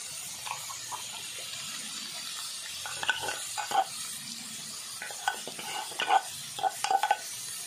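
A spoon stirs a dynamite bites mixture in a kitchen, steady scraping and soft wet clinks against the container over a constant hiss, close and moderately loud.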